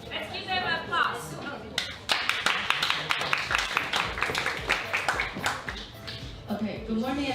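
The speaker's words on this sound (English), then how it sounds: "Let's give them a applause." Classroom audience clapping for a student group at a university presentation, sharp uneven claps from a modest crowd mixed with voices talking over them.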